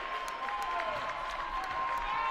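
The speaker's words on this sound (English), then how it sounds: "the William Woods contingent of the crowd makes their voices heard with the team now up by 20" A college basketball crowd, the William Woods contingent, cheers and applauds after a three-pointer at the USF Thanksgiving Classic, a steady roar of clapping and voices at moderate volume with a sustained tone running under it.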